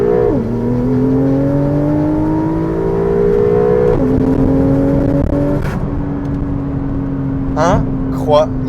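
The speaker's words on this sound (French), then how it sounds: "En mode Sport Plus et nous allons accélérer" A Porsche 911 Targa 4S in Sport Plus mode accelerates hard, its engine note climbing steadily in pitch, with gear changes breaking the rise, loud and close from inside the car, with brief vocal sounds near the end.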